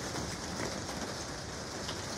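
Heavy rain falling outdoors along a larch-lined roadway, a dense, continuous hiss and patter that holds steady and fairly loud with no breaks.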